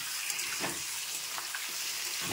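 Meat frying in a pan over an onion tempering gives a dense, continuous hiss and sizzle, close and fairly loud, with faint stirring movements underneath and no talking.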